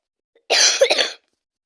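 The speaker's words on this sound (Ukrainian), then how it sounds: "Я кашлю." A single hoarse cough, short and close, in otherwise quiet surroundings.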